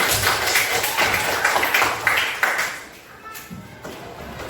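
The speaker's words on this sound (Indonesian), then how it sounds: "Tepuk tangan untuk kelompok" Classroom applause for a student group after their presentation, a dense patter of many hands clapping that fades out after a few seconds, leaving a quiet room.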